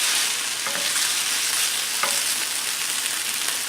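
Potatoes fry in a skillet with a bright, continuous sizzle and a couple of faint utensil clicks, close and steady with no talking.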